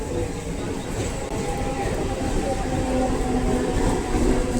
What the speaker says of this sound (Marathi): दुसरी ट्रेन आली